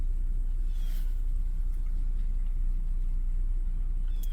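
Engine of a 2012 Ford Edge Limited running at a low, steady idle after start-up, a quiet even rumble heard close by with no talk.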